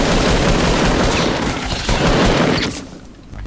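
Heavy automatic gunfire strikes the player in a shooter video game, a loud, continuous barrage of rapid shots that fades near the end.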